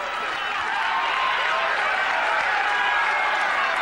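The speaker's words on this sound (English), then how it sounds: "the crowd noise so much you couldn't hear the bell go to start that one" A boxing arena crowd roars between rounds of the Vernon Forrest versus Ricardo Mayorga fight, a dense and steady wall of distant cheering that holds at a high level throughout with no break.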